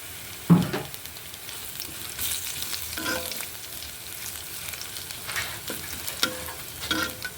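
Mustard goes into hot oil in a pan for a hog plum chutney, giving a low, steady sizzle broken by a few sharp stirring scrapes and clinks, with no voices.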